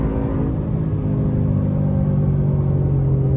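A Ford Mustang S650 on Nitto NT05 tires accelerates up a hill straightaway, its engine a loud, steady low rumble that holds throughout with no talking.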